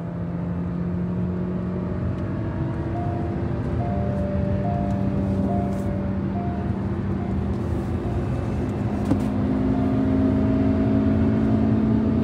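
Hyundai Creta petrol engine revving at full throttle in third gear, a loud steady high-rpm drone with sustained tonal whine and road noise, holding near the rev limit.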